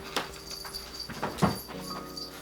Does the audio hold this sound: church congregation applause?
no